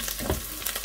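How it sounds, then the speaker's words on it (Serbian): Chopped onions fry in a skillet for a lasagna, giving a brief, steady crackling sizzle with soft hissing throughout and no talking. "Evo, kao što vidite, luk se prži."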